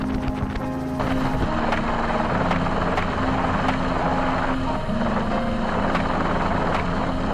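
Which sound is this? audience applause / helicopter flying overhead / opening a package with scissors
helicopter flying overhead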